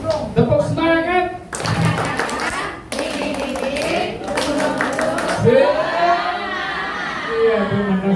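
Teachers at a training session perform a rhythmic spirit clap, patterned bursts of group hand claps with short gaps between them, interleaved with chanting voices and a speaker talking.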